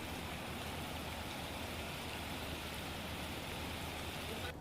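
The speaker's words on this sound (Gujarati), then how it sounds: "ભારે પવન સાથે વરસાદ વરસ્યો છે" Steady, dense rain with wind hisses without a break, a soft even wash of falling water heard from a distance, in Amreli district, Gujarat.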